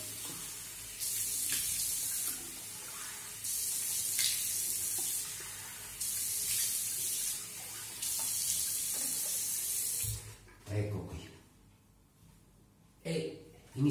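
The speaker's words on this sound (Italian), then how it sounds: "Risciacquo il viso." Running tap water while the face is rinsed during a wet shave: four bursts of steady hissing water flow about two seconds each, split by short pauses, then quieter splashing and handling noises.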